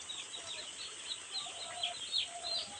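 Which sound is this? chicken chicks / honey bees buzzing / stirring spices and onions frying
chicken chicks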